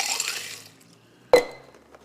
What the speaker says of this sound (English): Pour it into a pint